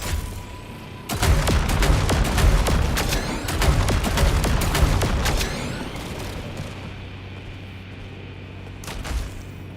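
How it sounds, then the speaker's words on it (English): Grenade launcher firing in the Saros video game, a dense barrage of loud booming shots and explosions over several seconds, thinning out into a quieter tail with one final blast. "Oh my god, it's a grenade launcher!"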